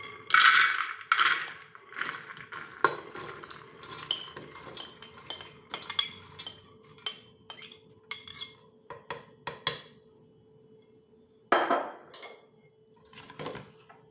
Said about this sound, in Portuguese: Na panela de pressão, eu vou colocar o feijão, aqui os 500 gramas de feijão preto